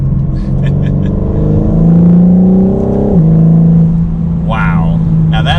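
A 2021 BMW M4 Competition in performance mode accelerates hard, its engine note rising smoothly in pitch, dropping at a gear change and climbing again, loud and close from inside the cabin, with a brief voice near the end.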